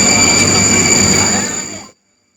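A Palembang LRT light rail train running with a loud, steady rolling rumble and faint high whine close by, the noise holding level before cutting off abruptly partway through.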